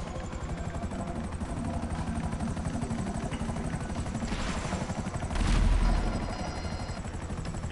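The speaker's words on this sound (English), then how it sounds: "I'm getting in the chopper, bro." A helicopter in the video game GTA 5 whirs with dense, rapid rotor chopping throughout, loud and close, with a brief heavier thump and swell partway through.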